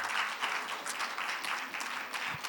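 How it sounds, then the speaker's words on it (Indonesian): A church congregation applauds during a Sunday service with dense, overlapping clapping. The applause is moderately soft and sounds somewhat distant, swelling slightly in waves over a couple of seconds. "tepuk tangan buat dia"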